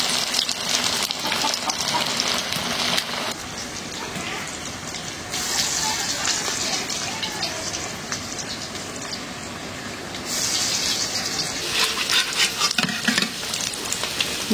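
Kachki fish frying in a pan make a loud, steady sizzle and crackle close by, swelling and dipping in intensity as the pan is stirred or moved, with brief softer stretches in between.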